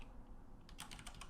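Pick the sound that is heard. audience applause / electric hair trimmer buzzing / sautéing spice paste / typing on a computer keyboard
typing on a computer keyboard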